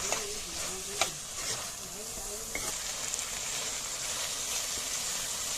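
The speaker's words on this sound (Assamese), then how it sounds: "পচলাটো তেতিয়ালৈকে ভাজিব যেতিয়ালৈকে একদম মিহি হৈ নাযায়।" Chopped banana stem frying in a pan for an Assamese chicken dish, heard as a moderate sizzle and hiss with a few clinks and scrapes of stirring, the loudest knock near the start.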